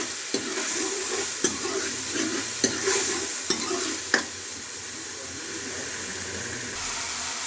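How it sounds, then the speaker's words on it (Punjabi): Masala sizzles steadily in hot oil in a pan while being roasted for rajma, with several sharp scraping stirs of a spoon through the first half, then a continuous frying hiss. "ਆ ਦੇਖੋ ਜੀ ਮਸਾਲਾ ਸਾਡਾ ਭੁੱਜ ਰਿਹਾ ਹੈ"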